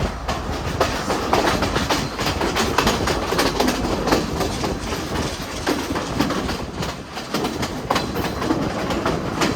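A train runs through the upcountry hills of Sri Lanka on the Badulla to Colombo line, loud and close, with rhythmic clickety-clack of wheels over rail joints and a continuous rumbling roar throughout.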